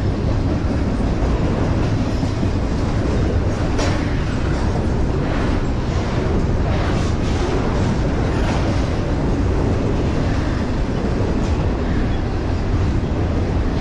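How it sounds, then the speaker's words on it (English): NS freight train 22X, led by AC44C6M and ES44D diesel locomotives, throttles up out of a junction with a loud, deep, continuous rumbling chug and faint rail clatter. "They're coming out of the junction. They're chugging and working hard."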